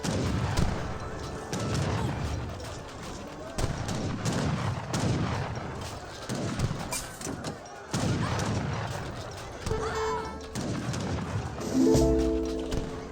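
Musket volleys from Ottoman Abus guns in an Age of Empires 3 battle, with repeated bursts of popping shots in uneven waves, briefly dropping out before a tonal game chime closes the stretch.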